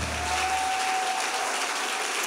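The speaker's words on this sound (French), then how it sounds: "Acclamons encore très fort notre Seigneur." Church congregation applauding in praise of the Lord, a dense sustained wash of clapping from many hands filling the room, steady and loud throughout.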